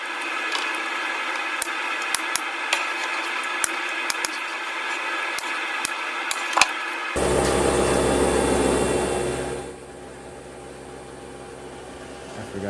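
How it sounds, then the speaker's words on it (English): A steady, loud roar from a wood planer takes over partway through as two 2-inch pieces of wood for vanity legs are planed down. It follows quieter shop hum with sharp clicks and ends in a lower run-down. "Here I'm planing down the two 2-inch pieces that are going to end up being the legs on each end."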